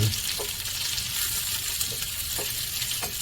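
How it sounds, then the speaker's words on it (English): Onions fry in a hot pan with a steady, close sizzle, while stirring adds occasional soft scrapes and ticks throughout. "I'm going to go ahead and add the onions and get those stirred in"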